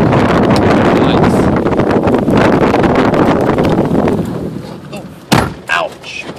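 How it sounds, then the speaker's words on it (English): Strong storm wind gusting to about 70 mph near a tornadic supercell in Uvalde, Texas roars steadily across the microphone, then eases and comes back in short, sharp buffeting gusts near the end. "the wind is gusting up to like 70 miles an hour right now"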